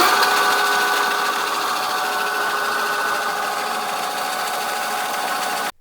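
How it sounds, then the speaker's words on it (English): The electric hub motor of a 72V-swapped Heybike Villain e-bike spins at its limited top speed, a steady high whine with a constant tonal hum held for several seconds before cutting off abruptly, close and loud with no talking. "I decided to rev the bike up to see what it was limited to"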